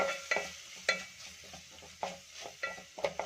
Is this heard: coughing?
no